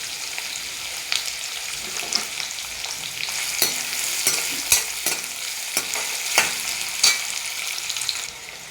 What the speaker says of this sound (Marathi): कांदा आपला गुलाबी असा छान भाजतोय